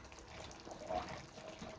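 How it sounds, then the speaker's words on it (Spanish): A jar of chickpeas is tipped with its liquid into a cooking pan, giving a soft steady pour and splash that runs through the moment and swells briefly near the middle. "el pomito de garbanzos directamente al matadero. Con el caldito del bote y todo"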